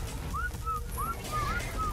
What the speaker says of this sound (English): I'm gonna whistle my Gigas to come with me